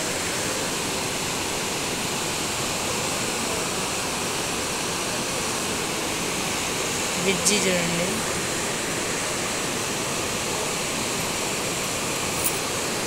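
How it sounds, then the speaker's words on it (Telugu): Water rushing forcefully past a bridge makes a steady, loud broadband roar that fills the scene throughout, with a brief voice speaking over the flow. "వాటర్ అసలు చెప్పాల్సిన పనే లేదు చాలా ఫోర్స్గా వచ్చేస్తున్నాయి"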